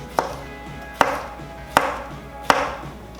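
Four crisp, evenly spaced knife chops strike a cutting board as tomatoes and cucumbers are sliced thin, close and clear with no talk.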